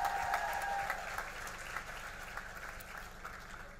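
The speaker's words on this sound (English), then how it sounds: "So can we give a round of applause for Rita for support?" An audience applauds steadily at a youth awards ceremony, a dense, continuous patter of clapping that slowly fades in loudness, with no talk over it.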